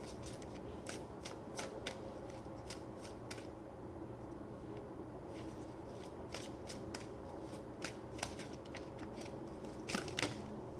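Tarot cards are shuffled up close in short bursts of soft, crisp riffling snaps, with pauses between, quiet and alone.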